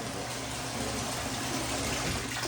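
Water running steadily from a tap inside a newly built house in Grand Prairie, Texas, a constant hissing, rushing flow at even volume with no pauses or voices.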